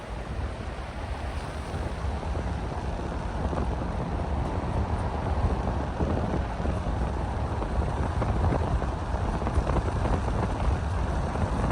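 A strong, cold wind on a Colorado mountain roars steadily and loudly, buffeting close with a low, rushing rumble throughout and no voices.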